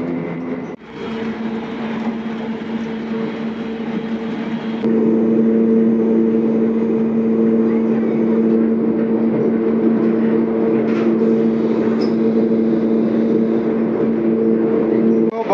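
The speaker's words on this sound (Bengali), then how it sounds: "বন্দে ভারত ট্রেনের স্পিড একেবারে 128-এ চলছে" Steady, loud rumble and drone of a Vande Bharat Express train running at speed, heard from inside the carriage, with a low hum that rises in level partway through and persists without talk.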